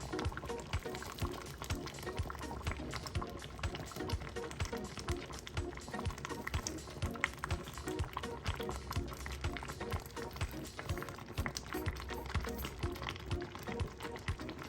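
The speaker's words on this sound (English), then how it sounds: "Wow, it's cooking so fast." Peanut soup with catfish bubbling at a steady, vigorous boil in a cooking pot, a continuous close gurgling and churning texture.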